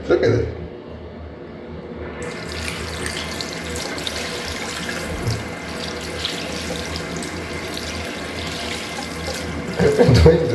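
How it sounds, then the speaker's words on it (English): Running water from a bathroom sink tap splashes steadily as socks are scrubbed and washed by hand beneath it, a continuous close rushing with brief louder splashes near the end. "I tried to wash my socks in this bathroom sink"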